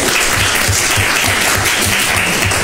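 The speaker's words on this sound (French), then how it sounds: "Applaudissez." An audience claps during a live midday broadcast quiz after a correct answer. The clapping is loud, close and continuous, with a steady pulsing rhythm underneath.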